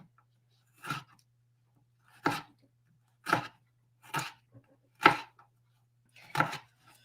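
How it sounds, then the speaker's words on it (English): A knife minces food on a cutting board in a home kitchen, with six crisp, separate chopping bursts spaced about a second apart, close and clear over a faint steady hum. "I'm going to cut this pretty small. We're mincing rather than dicing this time."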